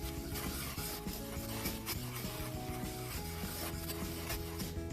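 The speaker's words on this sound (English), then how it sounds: "Just keep stirring this until that sugar is completely dissolved." Sugar mixture being stirred in a pot for a pretzel salad base, giving a quiet, steady scraping and rubbing of a utensil against the pan over a faint simmer.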